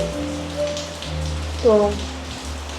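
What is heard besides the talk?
rain falling in Hongdae, Seoul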